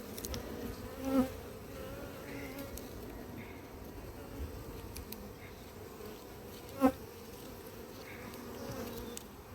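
Honeybees swarm around an opened hive frame in a spring apiary during Varroa treatment. A continuous buzzing drone is heard, and single bees swell louder twice as they pass close.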